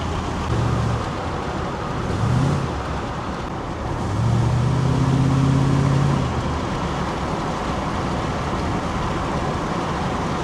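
A truck drives down the road on a cool August day, heard from inside as a loud steady engine and road rumble with a couple of low tonal swells of rising and falling engine pitch.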